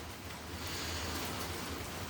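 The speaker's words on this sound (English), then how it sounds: "rain's coming down" Rain falls outdoors as a faint, steady wash of soft hiss with no distinct drops or voices.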